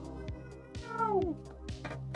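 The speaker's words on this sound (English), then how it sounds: "Meow. She wants to do a voice." A cat meows once with a rising-then-falling wail, close by and clear over a steady musical background with light rhythmic beats.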